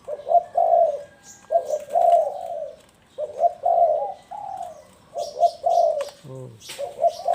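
Repeated soft, low spotted dove coos in short phrases with brief pauses, fairly close, along with a few faint chirps and rustles.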